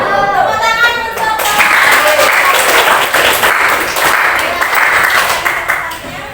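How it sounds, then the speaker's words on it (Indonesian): Loud, dense applause from a crowd closes out a presentation, steady clapping filling the whole stretch with no voices. "Tepuk tangan untuk"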